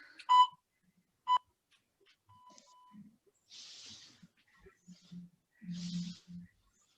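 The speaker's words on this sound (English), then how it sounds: "I've got a timer for everything because everything's got to be precise." Workout interval timer during a home squat session gives two short, sharp electronic beeps at the start, then softer scattered sounds and low thumps follow, with no clear talking.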